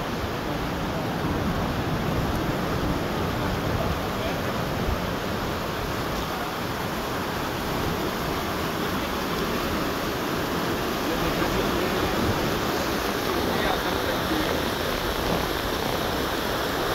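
Cold mountain stream water rushes continuously in a dense, steady roar in Leepa Valley, Azad Kashmir, close and unbroken, with no voices over it.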